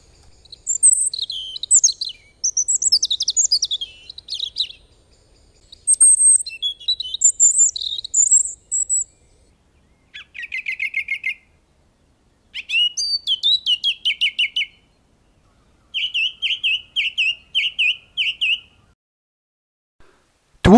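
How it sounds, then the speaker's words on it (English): Wild birds sing in the New Forest in early spring, with garden songbirds calling. Clear, close, high-pitched phrases come in separate bursts and trill-like runs, with short silences between them and no other sound. "Some of the birds thought spring had arrived and started to sing."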